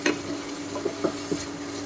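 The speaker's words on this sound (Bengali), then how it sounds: "আর জল দিয়ে এখন মশলাটাকে ভালো করে কষিয়ে নেব" Masala being sautéed with water in a pan: soft scraping stir strokes come in a loose rhythm of several brief pulses over a faint steady sizzle, close and fairly quiet.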